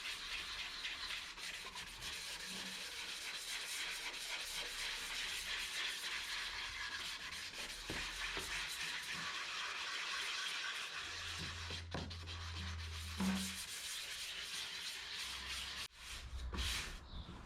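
Sandpaper rubs by hand in a steady, continuous scrubbing rasp on the yellowed, sprayed-on plastic headlight lens of a Mazda MX-5 NBFL, close and moderately loud, with a few small knocks near the end.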